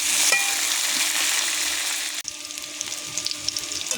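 Potatoes fry for mutton biryani, a loud, even crackling sizzle that is briefly cut off, then returns with faint stirring clicks and scrapes; no one talks.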